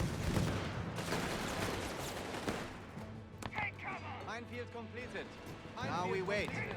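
Machine gun fire in the World War II strategy game Company of Heroes 3, heard as a steady crackling spray of distant gunfire under continuous commentary voices.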